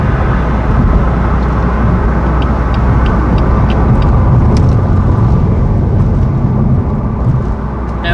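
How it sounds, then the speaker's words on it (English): A 2020 BMW M4 Convertible drives over an extremely bumpy, almost gravel road, with a loud, constant rumble of road and engine noise and sharp small knocks from the rough surface, with no talking. "just entered onto a extremely bumpy road"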